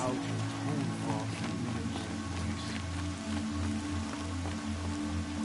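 Steady rainfall in Horizon Zero Dawn hisses continuously beneath tonal music, a soft, even patter with no clear pauses.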